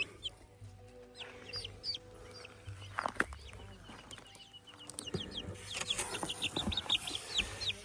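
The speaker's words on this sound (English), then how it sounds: "Little chicky chicks. One little chickie." Young chicks in a chicken pen give high, thin peeps in quick scattered bursts, growing busier toward the end, with soft voices talking now and then underneath.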